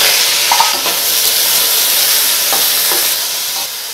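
Diced carrots, beans and potatoes for a kurma fry in a pan, giving a steady, loud hiss of sizzling with faint scrapes of stirring, close up and without talk.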